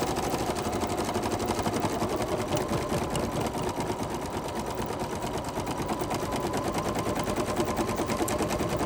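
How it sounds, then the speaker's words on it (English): An embroidery sewing machine stitches out a design in a rapid, steady, mechanical patter, close and continuous throughout, with no voices. "So as this stitches out and finishes up"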